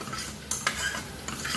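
Scrubbing a burnt saucepan with a sponge: rough, gritty rubbing strokes with a few sharp scrapes and clinks against the metal pan, close and continuous.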